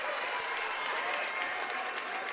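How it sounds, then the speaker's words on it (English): Steady applause and cheering from a distant crowd at a high school basketball game, a continuous wash of clapping at moderate volume. "going to get a big round of applause"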